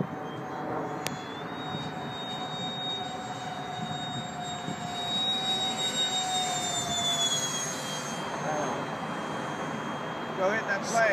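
A Parkzone Habu 2 RC jet makes a high-speed pass, its electric ducted-fan whine holding steady and then shifting in pitch as it passes, loud and continuous over the airfield while people talk and shout nearby.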